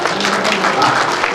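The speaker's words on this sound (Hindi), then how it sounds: "तालियां तो बजा" A short burst of audience applause at a news gathering in Nizamabad, dense, steady clapping from a crowd, loud and close, lasting only a moment.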